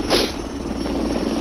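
Helicopter rotor chopping and engine drone in an online shooter game, a steady, loud low thrum that continues throughout with a brief brighter whoosh near the start.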